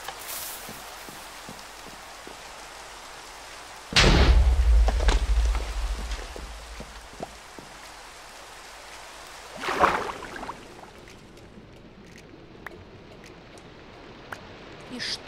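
Rain falls steadily in a Minecraft world running the PneumaticCraft modpack, a constant soft patter with scattered drops. A heavy booming burst lands about four seconds in and a sharper one near ten seconds, with no talking over it.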